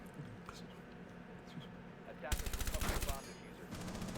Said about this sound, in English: The SMG is pretty deadly.